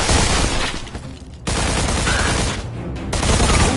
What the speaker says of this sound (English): The fucking bullets just keep on coming.